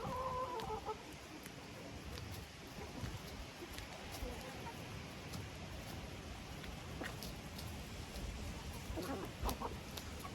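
Hens clucking softly in a noisy farmyard, with a few short clucks near the start and again toward the end over steady background rustle.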